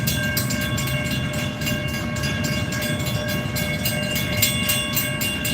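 A freight train with a gondola car rolls past close by in a continuous loud rumble, with rhythmic wheel clatter over the rails and a high metallic squeal running through it.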